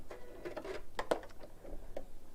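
A sewing machine stitches fabric just inside the seam allowance, holding a bow trim in place, in a quiet, irregular run of light mechanical ticks and whirs lasting a couple of seconds.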